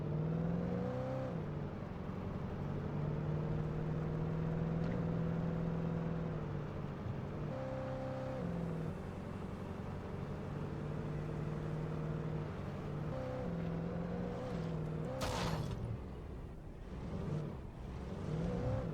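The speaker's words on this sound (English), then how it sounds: "We got our car back." A car engine drones steadily while driving in the Alan Wake game, a continuous low hum with shifting pitch as it speeds up and eases off, plus a brief sharp swish near the end.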